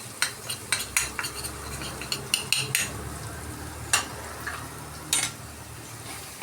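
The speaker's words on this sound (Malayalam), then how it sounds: "അതും നല്ലോണം ഇതേപോലെ ഒന്ന് നല്ലോണം വഴറ്റി കൊടുക്കണം." Chilli powder sautéed with garlic, ginger and curry leaves in a pan while making a Kerala-style mackerel dish, with a spoon repeatedly scraping and clinking against the pan over a soft background sizzle, in irregular bursts.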